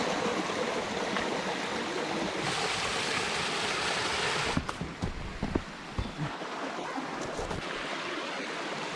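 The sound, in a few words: Maple Stream flowing under a carriage-road bridge, Acadia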